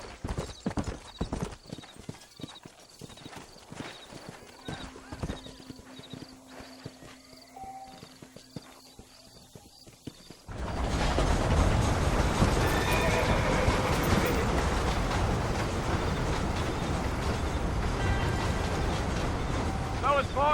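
Horse hooves clip-clop steadily in the video game Red Dead Redemption, a rhythmic trotting beat joined by a whinny, with wagon rattle and voices; the scene shifts midway to a louder, denser mix of hooves and rolling noise.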